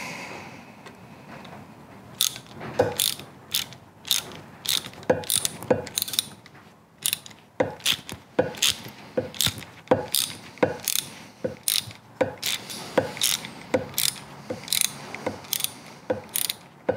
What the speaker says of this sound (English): I like that ratchet. It did all my favourite things.